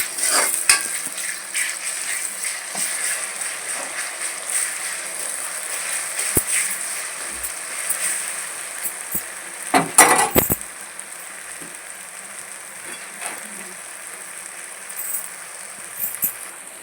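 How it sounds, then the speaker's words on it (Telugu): Onions frying in a pan for bitter gourd (kakarakaya) fry, a steady close sizzle running throughout with a few brief clinks and stirring scrapes, no talking. "ఉల్లిగడ్డ దూరగా వేయించుకోవాలి ఫ్రెండ్స్"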